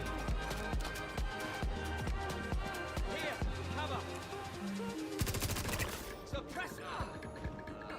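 Karna rifle gunfire in the game Star Citizen during a PvP fight, rapid bursts of shots cracking in quick succession over a low mechanical hum, busier and denser toward the end.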